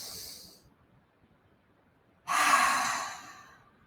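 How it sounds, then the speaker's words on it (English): A deep breathing exercise, air drawn in slowly through the nose and then released through the mouth: two soft, close breathy rushes separated by a silent pause, the second one fuller and louder. "Breathe in through your nose and out through your mouth."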